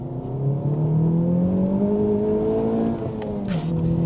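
Honda Civic Type R FK8 with a 320 bhp turbocharged engine accelerating hard with traction control off, a loud, steady, rising engine note that climbs through the gear and dips briefly near the end, with no voices.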